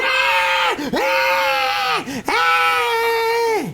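A baby screams in long, loud, sustained wails, three drawn-out bursts separated by brief gasping breaths, close and alone with no talking.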